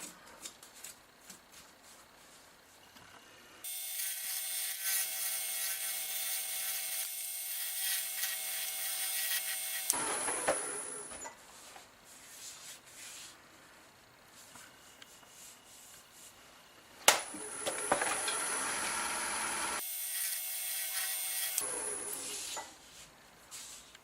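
A gouge hollows out a gnarly wood burl spinning on a lathe, giving long bursts of harsh scraping and rubbing broken by short pauses, with one sharp knock partway through; close and fairly loud, with no voices.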